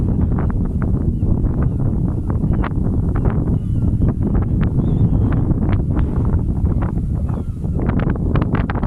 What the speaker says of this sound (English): It's windy as heck, guys.